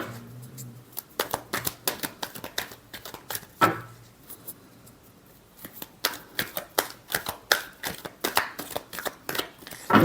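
Playing cards are shuffled by hand close up for a tarot-style reading, a long run of rapid riffling slaps with a short pause partway through, and no voice over it.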